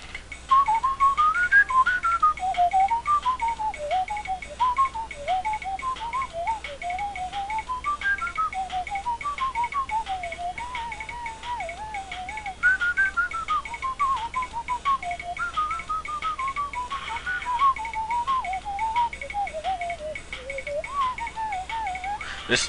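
A person whistles a continuous wandering melody along to the looping music of the game Bikdip's Adventure 2, clear and close, with a steady ticking beat underneath and no pauses.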